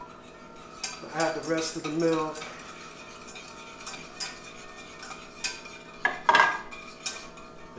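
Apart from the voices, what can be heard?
whisking chocolate chips and milk into a mocha ganache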